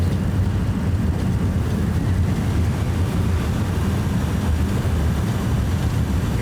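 Airliner thrust reversers deployed during landing rollout, a loud steady roar of engine noise with rumbling low end, continuous and close from inside the aircraft.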